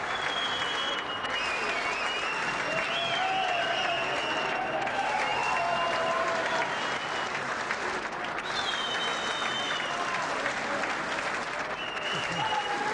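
Crowd at the Bankstown Sports Centre applauds an election victory in 1993, a steady, dense wash of clapping and cheering that holds for the whole stretch with no break.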